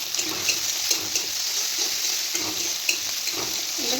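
Food frying in oil in a pan for a fish mustard curry, a steady close sizzle with light stirring scrapes and occasional small pops, no voices.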